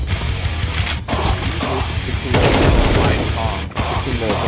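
Rapid, loud bursts of gunfire in Counter-Strike 2, dense and continuous with a short break, mixed with a voice talking over the shots.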